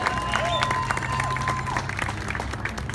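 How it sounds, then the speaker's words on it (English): Audience applause with some cheering for twelve Hall of Fame inductees at a St Patrick's Day event at the New York New York Hotel Casino: a dense, steady wash of clapping that fills the whole stretch, with faint voices in the crowd. "let's have a loud round of applause for our 12 inductees onto the Hall of Fame"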